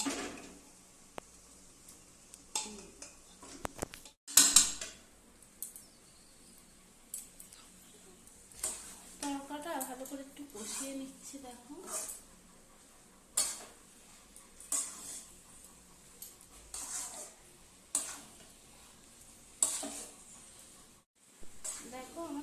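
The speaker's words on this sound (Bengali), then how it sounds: "তারপরে তরকাটা দিয়ে কষাবো" Vegetable curry being stirred and fried in a pan, with intermittent spoon scrapes and clinks against the pan over a quiet background while someone talks throughout.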